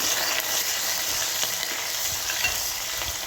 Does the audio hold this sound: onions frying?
yes